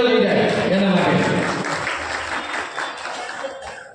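Crowd applause at a community trust get-together in Ahmedabad, a dense burst of clapping that is loudest at the start and gradually thins and fades, with voices audible over it.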